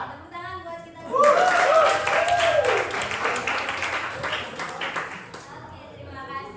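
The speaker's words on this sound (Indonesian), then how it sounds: "Tepuk tangan buat kita semua." A classroom of students bursts into hand clapping after a short spoken lead-in, a dense burst of applause that holds for about four seconds before fading, with a teacher's voice heard over and around it.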